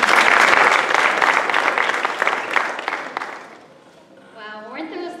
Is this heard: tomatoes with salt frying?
no